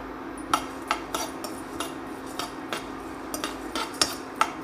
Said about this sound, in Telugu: ఫ్రైయింగ్ ప్యాన్ పెట్టుకోవాలి ప్యాన్ లైట్గా హీట్ అయిన తరువాత ఫోర్ టేబుల్ స్పూన్స్ ధనియాలను వేసుకుని వీటిని సిమ్లో కాసేపు వేగనివ్వాలి